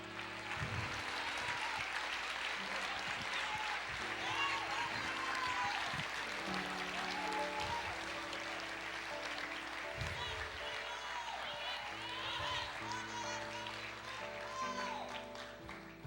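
A church congregation claps in praise during a worship service, producing a sustained, dense wash of applause with a voice speaking over it throughout.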